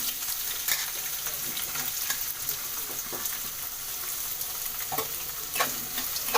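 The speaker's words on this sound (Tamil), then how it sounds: "கருவேப்பிலை போட்ட உடனே வெங்காயம் போடணும்" Onions and curry leaves fry in a pan with a steady, close hiss, dotted now and then by light stirring taps of a spoon, with no one talking.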